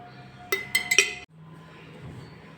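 A tablespoon clinks three times in quick succession against a bowl while ground ginger-garlic paste is added for chicken tikka, bright metallic taps followed by a soft, quiet scrape.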